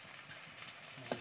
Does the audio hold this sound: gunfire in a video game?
no